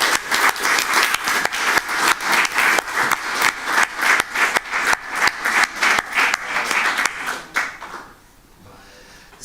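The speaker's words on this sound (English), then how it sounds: "let's give a very big round of applause to both Jack Shepherd and our Science Slammers too" A conference audience breaks into sustained applause, dense rapid clapping from many hands filling the room for about eight seconds before dying away into quiet.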